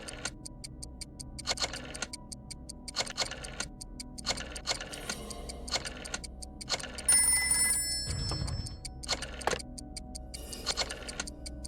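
A rotary telephone in a video game rings in rapid metallic bell bursts repeated at regular intervals, with a low hum beneath and a brief extra tone in the middle.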